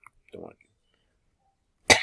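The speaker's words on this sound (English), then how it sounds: "it's not a new cough" A single sharp cough breaks out after a quiet pause, preceded by a short murmur of speech.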